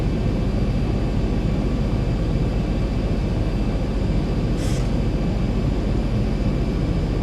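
A simulated Zibo Boeing 737 airliner lands at San Francisco in X-Plane 11, producing a loud, steady engine and wind roar throughout, without speech.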